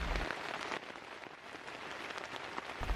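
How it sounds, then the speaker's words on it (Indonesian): Heavy rain pours steadily onto a camping tent at a waterfall campsite in Bogor, a dense continuous hiss and patter with no speech, filling the whole stretch at an even, close level. "hujan mulai deras ketika tenda gue sudah selesai terbangun"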